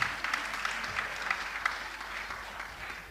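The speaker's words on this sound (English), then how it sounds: "a big round of applause for them because of everything they do and have done" At a school end-of-term performance, an audience gives the teachers a round of applause, a steady, moderately loud patter of many hands clapping that slowly thins out.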